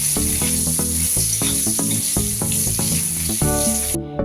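Eggplant pieces fry in hot oil with a pinch of turmeric, giving a steady bright sizzle that runs throughout beneath loud background music with rhythmic plucked notes.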